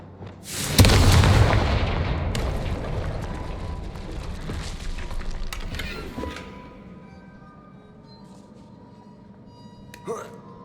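Confringo spell explosions from the video game Hogwarts Legacy: a loud booming blast bursts in near the start and rumbles on for several seconds, decaying into lower debris and ambience, with a smaller crack near the end.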